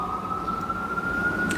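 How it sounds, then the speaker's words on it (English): A steady wailing siren holds a high tone throughout, loud and continuous over a rumbling traffic background, with no talking. "The sirens are really loud."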